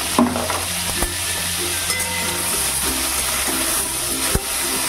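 Food is being stirred in a pan with short scraping and clicking strokes over a low, steady frying hiss, close and fairly loud, with no talking.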